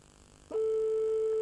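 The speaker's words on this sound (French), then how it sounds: "5 sonneries maximum, vous le savez." A single steady electronic telephone tone starts abruptly and holds continuously, clear and fairly quiet.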